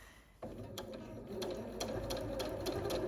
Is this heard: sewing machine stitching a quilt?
yes